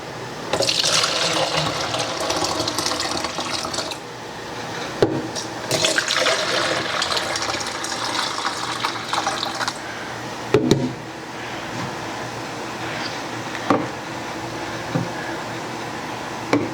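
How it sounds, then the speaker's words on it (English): Chicken stock is poured into freezer containers standing in a sink, a steady liquid filling sound with rising pitch. Short pauses and a few plastic knocks break it up as each container fills, and no one talks. "I'm going to put them in the sink and pour it in there."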